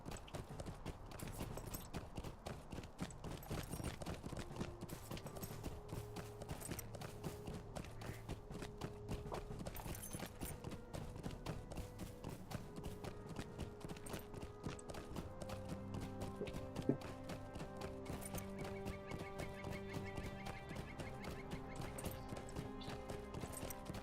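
Horse hooves beat a quick, steady galloping rhythm while riding in the fantasy video game Lord of the Rings Online, running continuously under a layer of game music with no talking.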